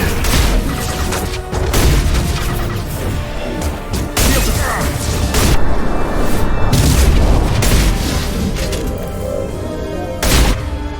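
Loud booming impacts and crashing blasts from a high impact shot in the sci-fi video game Mass Effect 2, heavy thuds rolling over dense battle noise with sharp bursts near the end.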